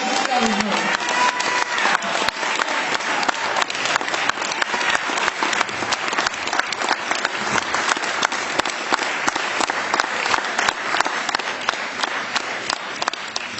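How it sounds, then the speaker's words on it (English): Audience applause for an honoree at a civil rights event, a steady, dense wash of many hands clapping that holds for the whole stretch with no speech. "I want you to give a big round of applause for this angel, Mrs. Shuttlesworth."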